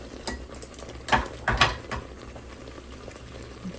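A spinach dip mixture is stirred in a bowl, with a few soft wet scrapes and clinks close by over a low bubbling background, most of them clustered in the first two seconds.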